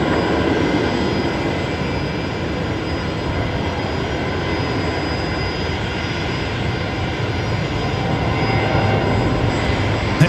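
A Qantas jet airliner takes off at Brisbane Airport at night, a loud, steady roar of jet engines at full thrust that holds unbroken for about ten seconds, with no voices.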